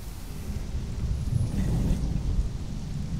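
Steady heavy rain pours with a deep rolling rumble of thunder underneath in the video game Conan Exiles, continuous and fairly loud, with no voices.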